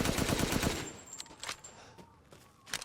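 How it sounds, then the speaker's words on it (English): Gunshots fired into a dead body in the video game Resident Evil Village: a rapid burst of shots at the start, then several sharper single shots spaced apart, fairly close and loud against a quiet background. "Just shot a dead body."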